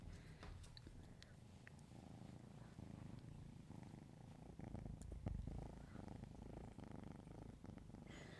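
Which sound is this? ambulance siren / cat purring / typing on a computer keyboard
cat purring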